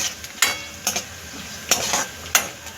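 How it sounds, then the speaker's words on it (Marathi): Grated coconut fries in hot oil for crispy poha chivda, a soft sizzle broken by four sharp scraping strokes as a utensil stirs the pan, close and clear with no voices. "तेल गरम झाले ना तर खोबरं आपलं लगेच परतल्या जातं"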